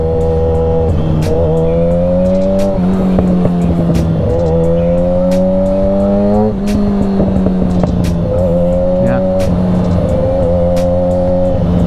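A Yamaha R6 sport motorcycle revs loud and close while being ridden, its engine note climbing and falling in repeated throttle sweeps with short dips between gear changes.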